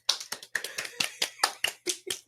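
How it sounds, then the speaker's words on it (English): A quick run of about a dozen sharp hand claps, close and distinct, in an uneven rhythm with brief gaps, heard alone without talk. "Hey, hand claps."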